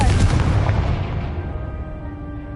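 A single loud explosive blast from a fiery blasting spell in Hogwarts Legacy, a heavy boom at the start that rolls off and fades over two seconds.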